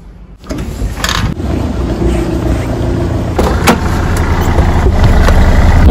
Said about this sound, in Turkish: Arkadaşlar ben araba sürmeyi öğreniyorum